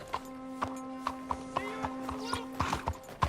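Horse hooves clip-clop at a steady walking rhythm in Red Dead Redemption 2, close and moderately loud, with a sustained tone and a voice speaking over the hoofbeats.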